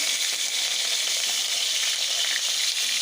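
Tomatoes frying in a pan of hot oil while fish kulambu is being cooked, giving a steady loud hiss and sizzle that runs on without a break.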